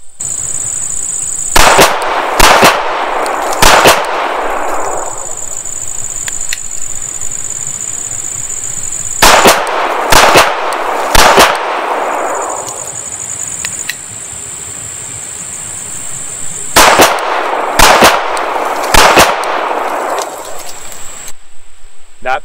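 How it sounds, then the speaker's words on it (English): A CZ75B Omega Convertible pistol fires during failure drills at a shooting range. Three strings of three sharp, loud shots ring out, each string spaced about a second between shots and followed by a long pause. "Two shots to the body, one shot to the head."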